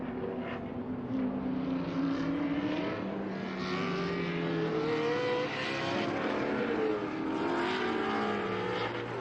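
A Corvette race car at a vintage racing event at Circuit Of The Americas, its engine note rising and falling as it passes, with other race cars droning at a distance on the track.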